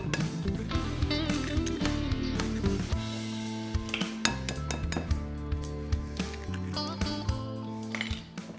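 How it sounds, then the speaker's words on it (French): Eggs and butter being mixed in a bowl for a peach upside-down cake, a busy run of clinking and scraping from a utensil against the bowl, near and continuous with irregular sharp knocks. "on commence à mélanger"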